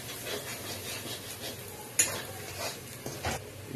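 Mutton being stirred into gravy in a cooking pan, with soft scraping and stirring throughout and a few sharper utensil knocks against the pan, no talking.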